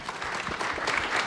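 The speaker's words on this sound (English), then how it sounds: "Big round of applause for our panelists this evening" An evening audience at a plant-based vegan meetup panel claps for the panelists, a brief burst of dense, steady applause from a roomful of people with a little faint murmuring underneath.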